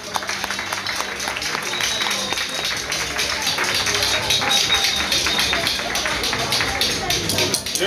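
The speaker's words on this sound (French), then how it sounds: "Applaudissez très fort pour cette écriture." An audience applauding loudly for several seconds, dense continuous clapping from many hands that swells slightly and holds steady, with a few voices mixed into the crowd.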